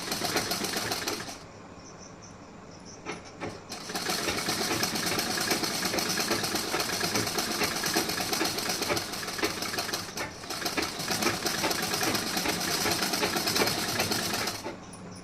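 A sewing machine stitches a blouse in fast, steady mechanical runs that rattle on for several seconds, stop briefly, then start up again, close and loud with no talking.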